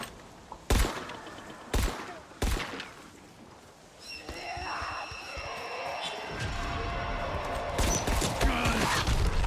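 Pistol fire in the video game Dying Light The Beast: three sharp, loud separate shots in the first few seconds, followed by growing noisy game action with shrieks and clatter.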